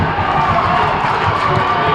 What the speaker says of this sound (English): the crowd is going electric